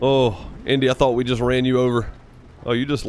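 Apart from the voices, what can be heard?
No distinct noise like a dog, phone or traffic.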